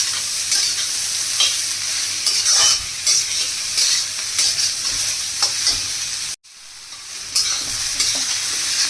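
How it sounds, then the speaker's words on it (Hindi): Grated cauliflower frying and stirred in a pan for gobhi paratha filling, a steady close sizzle with scraping spoon strokes, cut by a brief silent gap before the frying resumes. "और गोभी डालकर भी हम 2 मिनट और भून लेंगे।"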